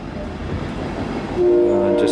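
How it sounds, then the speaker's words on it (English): A loud, steady mechanical drone of a pump motor with a broken-off muffler, rough broadband noise, rising in volume partway through and gaining a harsh tonal whine. "It's the muffler for the pump, so it's a little loud."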